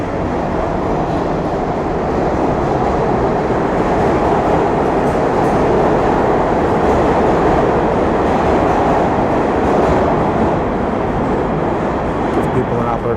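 A New York City subway train rolls along with a loud, steady roar and rumble that fills the whole stretch, with no letup.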